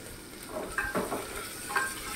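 Cardamom, cloves, chili and two bay leaves are stirred around in a hot pan, a soft sizzle with a few brief scraping strokes near the middle and end, close and fairly quiet, with no voices.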